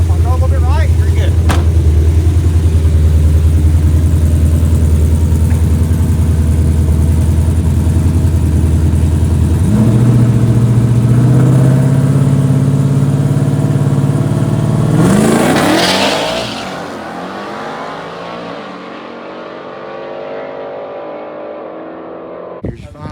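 Work truck at a drag strip test-and-tune, its engine idling then revving in stepped rises, climbing sharply to a loud roar before dropping away and fading into distance.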